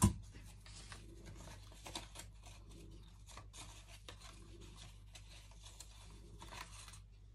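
Scissors cut through material in soft, irregular snips and rasps, quiet and close, with no talk.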